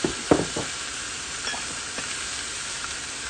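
A beef roast drops into a large hot pot and sizzles steadily, with a few soft clunks of the meat settling at the start before an even frying hiss continues.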